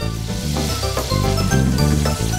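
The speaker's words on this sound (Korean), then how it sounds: "두 번째 요리를 위해 고등어에 녹말가루를 묻혀 튀기는데" Mackerel coated in starch fries in hot oil, a loud dense sizzle close up that crackles steadily throughout with slight swells as pieces shift, while music plays underneath.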